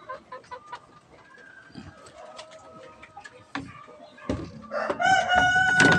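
Chickens cluck and chatter in a muddy backyard chicken coop, with a rooster crowing loudly near the end, over faint background noise and some speech.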